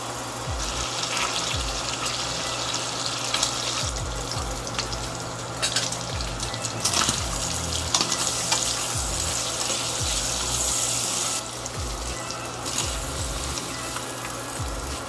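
Bacon strips fry in their own rendered fat in a pan, giving a steady, close, dense crackling sizzle with scattered pops and occasional stirring clinks, unbroken for the whole stretch and with no voices.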